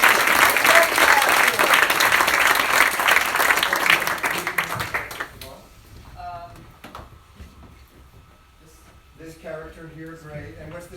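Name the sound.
audience applause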